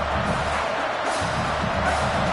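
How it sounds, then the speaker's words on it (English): A football stadium crowd roars behind the defense on third down, a dense, steady wall of cheering noise that holds loud throughout the short stretch. "Decibels rising as the crowd gets behind this defense on 3rd down."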